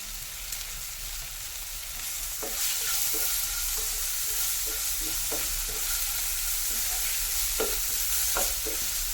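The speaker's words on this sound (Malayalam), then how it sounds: "നല്ലോണം ഇങ്ങോട്ട് ഇളക്കി കൊടുക്കുക" Turmeric and salt are stirred into a frying dish in a pan, with a constant loud sizzle and hiss under intermittent spoon scrapes and light taps against the pan.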